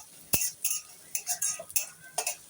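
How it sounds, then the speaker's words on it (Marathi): Carrots go into a pan of browned frying onions, giving a string of sharp clinks and scrapes from a utensil against the pan, quiet and irregular, with a soft sizzle beneath. "तर आपण याच्यामध्ये गाजर टाकून घेऊया."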